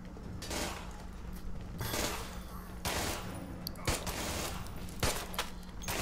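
Gunfire in the cooperative zombie game Contagion: rapid bursts of shots in quick volleys over a steady background, with a few sharp single cracks.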